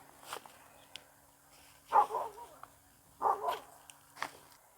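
A dog barks twice in the distance, faint and spaced apart, over quiet background noise and soft voices.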